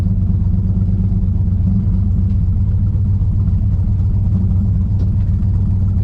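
Rumbling, steady engine of a 1968 Plymouth Roadrunner running near the mic, with a deep low drone and no change in pitch, heard alone without any talking.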